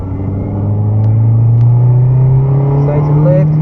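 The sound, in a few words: car engine accelerating on a race track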